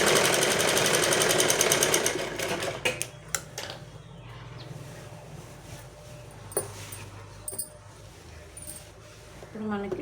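A sewing machine stitches a leftover edge of fabric, its motor buzzing in a steady, fast run for the first couple of seconds before stopping. Quieter handling clicks and rustles follow, with occasional voices in the background.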